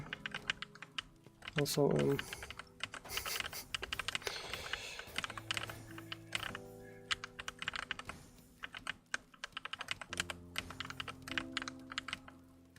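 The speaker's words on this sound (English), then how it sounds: "all of the keys make like a different sound and they make different friction" Typing on a new computer keyboard during TETR.IO play, keys sounding unevenly with varied friction, fast irregular clacking bursts close up, with brief talking at the start.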